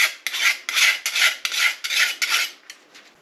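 Metal file rasping along the mushroomed top edge of a chainsaw bar, about seven close, even back-and-forth strokes in a steady rhythm, followed by a few lighter strokes, with no talking.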